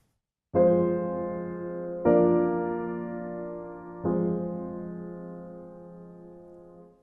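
Three sustained chords played one after another, each struck and left to ring, moving from a minor tonic chord to a brighter major four chord.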